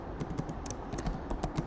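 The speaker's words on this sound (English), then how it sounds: "Let me type it here." Quick, light keystrokes clatter on a computer keyboard, a short close burst of typing at low volume.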